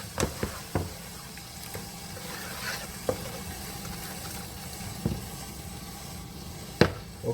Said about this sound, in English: And I'm gonna stir it around.